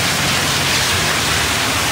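Steady rain falls on a garden in Vietnam, a dense, even hiss of drops with no breaks and no voices, close and fairly loud throughout.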